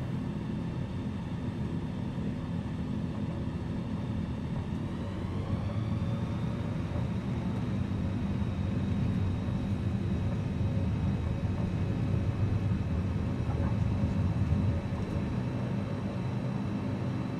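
A small aircraft engine in Microsoft Flight Simulator 2020 throttles up: a steady low droning rumble that rises in pitch and grows slightly louder partway through, then holds continuously.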